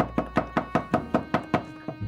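Nine evenly spaced knocks on a door, a steady rhythm of sharp, fairly loud raps heard alone with no voices, at a home in a comedy sketch.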